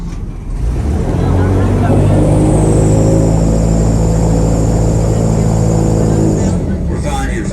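An airboat engine roars loud and steady in the Everglades, droning continuously at close range with a rising whine near the start.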